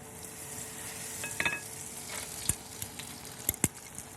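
Eggplant slice frying in hot oil for tempura, a steady soft sizzle with a few sharp crackles and pops, close and fairly quiet.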